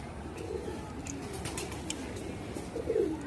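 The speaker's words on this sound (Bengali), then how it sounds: "এগুলা জালালি কবুতর।" Jalali pigeons at a zoo in Dhaka give soft, low, throaty coos that repeat through the clip, close by, with light outdoor ambience.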